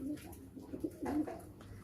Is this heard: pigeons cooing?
yes